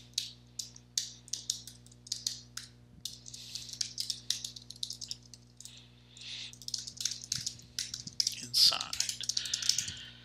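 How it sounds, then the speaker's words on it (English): Rapid clicking keystrokes on a computer keyboard as a git clone command is typed, coming in quick bursts with short pauses, close and fairly quiet, with a voice speaking briefly. "type git clone and then that address"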